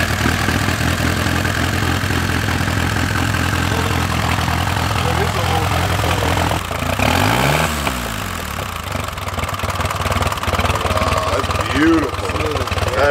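A 1917 Henderson motorcycle engine fires up and settles into a steady, fairly loud idle, with a brief dip and revving swell midway and a voice talking over the running engine.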